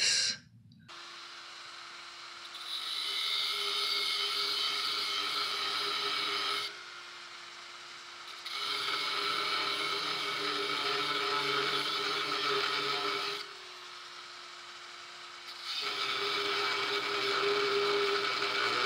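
A power tool cutting a cast iron radiator leg in three long passes, each a loud steady grinding whine with brief near-silent pauses between, no talking.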